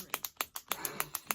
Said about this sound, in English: So it's a clicky pen.